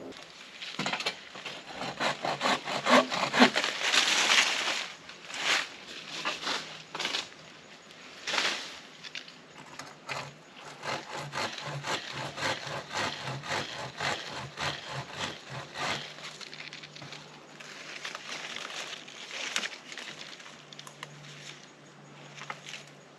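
Tree branches are trimmed by hand to open shooting lanes for bow hunting, giving rhythmic rasping saw strokes and rustling of branches, moderately close and continuing with short pauses.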